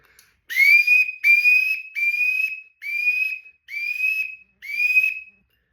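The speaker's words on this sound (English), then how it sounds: "Now, if you want to fly wood duck, they always have a rhythm." Duck whistle sounding the flying wood duck call: six rising squealing whistles in a steady rhythm, loud and close, with no voices.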